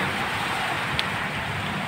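Steady, dense rain pours down during a Kalbaishakhi (nor'wester) storm in a village, a continuous loud hiss throughout, with one brief sharper tap near the middle.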